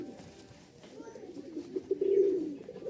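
A high-flying Giribaj pigeon coos softly nearby, a low throaty warble that swells toward the end over faint background noise.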